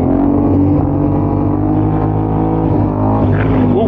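Motorcycle engine revving hard in the desert during an attempted wheelie, a loud continuous droning roar with shifting pitch and a brief rise near the end.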